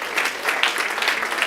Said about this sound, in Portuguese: aplauda mais uma vez o nome dele